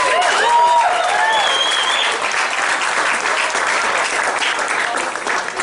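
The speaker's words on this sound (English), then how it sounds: "let's give them a round of applause," Audience applause and cheering at the opening night media presentation of Halloween Horror Nights 24, a dense, loud, steady round of clapping with some whistles, lasting the whole stretch and easing slightly at the end.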